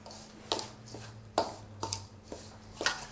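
A spoon stirring crème fraîche in a bowl, a series of soft, quiet knocks and scrapes spaced irregularly, with a low steady hum beneath and no talk.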